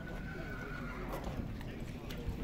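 Horses standing in an enclosure at a horse market, with a whinny and soft hoof clops heard faintly under steady background chatter and market noise, while people talk nearby.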